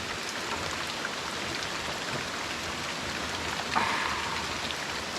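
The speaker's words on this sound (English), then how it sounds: "so it's just gonna be the sound of rain." Heavy rain falls steadily around a hiker on the Appalachian Trail in late October, a dense continuous hiss with a brief louder patter near the end and no talking.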